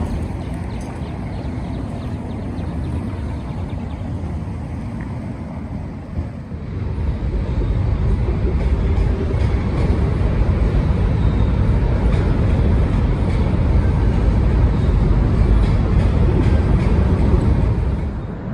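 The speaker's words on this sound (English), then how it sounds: "As the train roars past in the background" A heavy, continuous rumble swells in around seven seconds and holds steady and loud as a train roars past nearby in Richmond.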